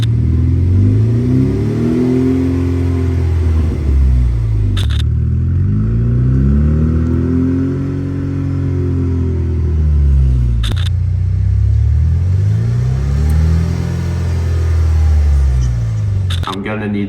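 A Ford Mustang engine revved by remote actuator swells and falls in three slow, loud rev cycles, each rising then easing back to idle, with sharp clicks between cycles.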